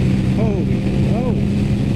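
An Aprilia RS 660 motorcycle engine drones loud and close, with two quick rising-falling pitch swoops from rev-matched downshifts, under wind rush and a voice speaking.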